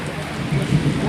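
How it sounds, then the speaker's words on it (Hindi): Heavy rain in Karachi, heard as a steady, dense hiss with a low rumble swelling midway, loud and continuous with no voices. "ये देखें इंतहाई ख़तरनाक तरीन बारिश"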